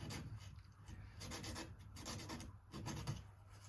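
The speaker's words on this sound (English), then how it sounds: "Not very powerful sandpaper. It's got no bite." Sandpaper rubs on the adjustable nut of an Epiphone Les Paul during a guitar setup, making a faint, steady close rasping that continues in short strokes without pause.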